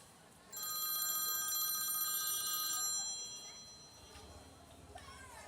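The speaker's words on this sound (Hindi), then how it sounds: "वह फोन किसका बज रहा है ये?" A telephone rings in a bright, electronic trill for about two seconds inside a room, fading into low background murmur and faint voices afterward.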